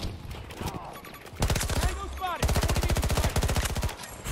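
SMG gunfire in the video game Battlefield 2042, rapid bursts of loud, close automatic shots: a short burst, then a longer sustained stream with a brief break between.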